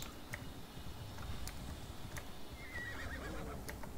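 A horse in the video game Assassin's Creed Odyssey whinnies briefly in the middle distance over a steady low ambient hum, with a few faint clicks around it; no voices.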